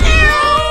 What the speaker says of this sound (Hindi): कितना सुंदर बिल्ली का बच्चा है